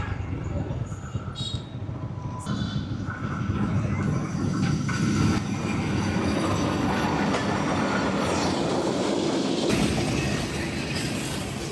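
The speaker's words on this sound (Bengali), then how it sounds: "তোমার জন্য দুইটা ট্রেন আয় পড়ছে।" A train rolls past at Ratanpur station in Bangladesh, with a heavy sustained rumble and clattering wheels and a brief high squeal near the end. A child and an adult talk faintly underneath.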